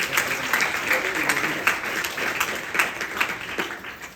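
Worshippers at a Hindu yagna memorial session give a sustained round of applause, many hands clapping in a dense, even wash that fills the room from start to finish.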